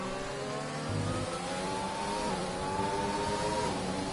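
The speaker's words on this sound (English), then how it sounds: "he revs his engine up so much" A race car engine in a racing video game revs steadily and continuously, its pitch climbing and shifting through gears, loud and close with no talk over it.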